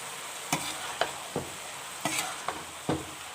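A spoon or spatula stirs gobhi gosht, cauliflower and meat frying with spices and chaat masala in a pan. Sharp scraping strokes land about every half second over a soft, steady sizzle, close and fairly quiet.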